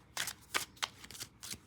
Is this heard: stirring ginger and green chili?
no